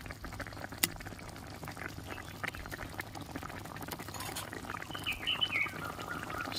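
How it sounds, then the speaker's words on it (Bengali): A spicy curry of fried bata fish with eggplant simmers in a pot, with soft, steady bubbling close by and a few faint clinks. "ভেজে রাখা মাছ দিয়ে দিচ্ছি। ভালো করে ফুটিয়ে নেব।"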